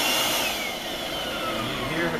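Kirby Sentria 2 vacuum running with its hose attached, giving a loud, steady motor roar with a high whine on top, holding constant and close throughout.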